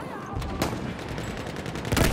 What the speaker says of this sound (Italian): Attenzione, mitragliatrice nemica!